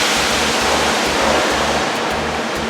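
Steady, loud rush of spraying water filling a truck wash bay, a continuous hiss with a faint rhythmic low thumping of pump or machinery beneath.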